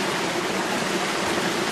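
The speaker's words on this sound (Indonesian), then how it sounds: "Air terjun." A waterfall on Gunung Gajah in Sambit, Ponorogo, makes a steady, dense rush of falling water, loud and unbroken, with no voices over it.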